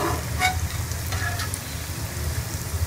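Moong dal vadiyan frying in a pan after being flipped, a steady moderate sizzle with a couple of soft scrapes from turning them, no voices.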